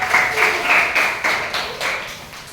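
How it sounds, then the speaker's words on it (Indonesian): A classroom of students claps for a classmate, a burst of many hands applauding together that swells and then thins out over a couple of seconds, close and lively. "tepuk tangan buat Arkan."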